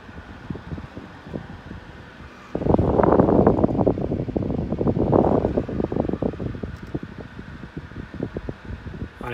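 A computer fan mounted in a camper kicks up to full power, turning a low background into a loud, steady rushing whoosh with a fluttering, pulsing edge that holds close and constant.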